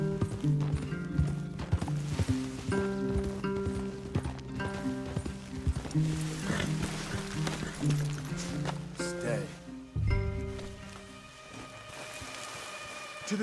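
Steady clip-clop of horse hooves along with a horse's whinny, under game music and a few spoken voices in Red Dead Redemption 2.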